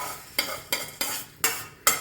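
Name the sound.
toor dal frying and being stirred in a pan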